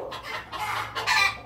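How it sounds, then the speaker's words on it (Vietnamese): Farm chickens clucking noisily with rooster-like calls, a dense, continuous jumble of overlapping hen voices in bursts, fairly close and steady throughout. "Mấy gà la ồn quá đó"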